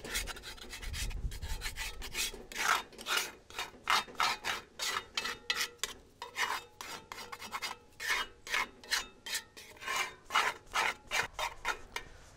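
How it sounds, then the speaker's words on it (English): Scraper rasping baked-on coffee cake batter off the sides and bottom of a cast-iron Dutch oven, a long run of rhythmic gritty strokes, close and fairly quiet, with no talk. "I'm going to start off with my scraper"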